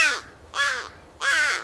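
A crow gives three loud, harsh caws, evenly spaced with short pauses between them, clear and close with nothing else around.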